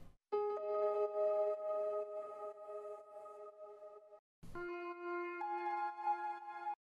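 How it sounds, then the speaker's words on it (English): The Radical Keys piano plugin from Reason Studios plays two sustained chords, the first ringing about four seconds and the second following after a short gap. The tone is soft and clean, with no talk. "So Radical Keys sounds something like this."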